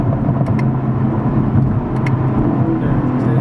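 A 2020 Chevrolet Camaro 2SS V8 drones heavily after a downshift in traffic, a loud, continuous low engine rumble heard from inside the car.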